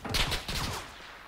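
Video game gunfire crackles in a quick burst of several sharp shots close together near the start, followed by a trailing echo that fades out.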